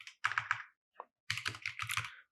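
Keystrokes on a computer keyboard as a terminal command is typed on a Linux machine: a quick burst of close taps, a brief pause with one soft click, then a second rapid run of clattering keys.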